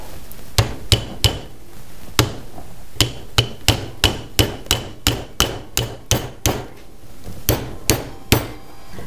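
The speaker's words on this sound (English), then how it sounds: "I'm gonna use my rawhide mallet, and I'm just going to hammer on this end" A rawhide mallet strikes a metal spoon handle in a steady series of sharp, ringing taps, some spaced apart and others in quick runs, close and fairly loud.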